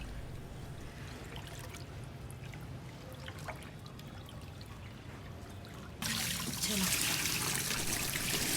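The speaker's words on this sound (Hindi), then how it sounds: "गंदा पानी निकालते जाएंगे" Dirty water drains off wheat being washed by hand: a steady trickle and pour, growing louder and more rushing in the last few seconds, with no talking.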